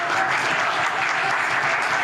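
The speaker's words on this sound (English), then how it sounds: "Clap for Jesus Christ." Church congregation clapping during a healing testimony, a continuous wash of dense applause filling the space with a faint tone running through it.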